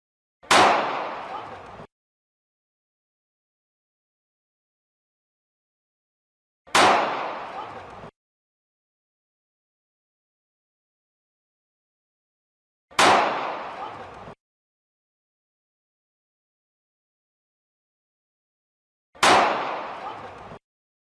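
Four loud, sharp gunshots ring out one at a time at the Golden Temple, evenly spaced several seconds apart, each with a short echoing tail and silence between.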